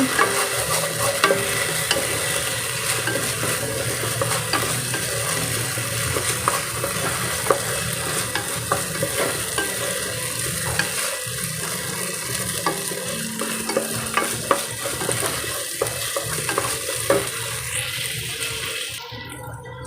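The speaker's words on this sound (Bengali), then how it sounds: "এবার ভালোভাবে চালটা আমি ভাজা ভাজা করে নেব" Gobindobhog rice being stirred and fried in a pan with cooked-down spices for pulao, a steady loud sizzle with scraping stir strokes running throughout, no talk.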